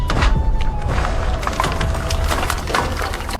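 A comedic sound effect of a punch smashing a wall: a loud, dense crackle of splintering wood that runs on for several seconds without pause, close and harsh, with no talking.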